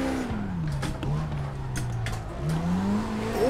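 A Nissan G35 drifting in the CarX Drift Racing game, its engine droning and swooping up and down in pitch without a break while it holds the slide, steady and close, with no talk.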